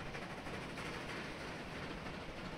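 A train rolls steadily along the rails in the Transport Fever 2 game, a continuous dense rumble and rattle with no breaks, heard alone.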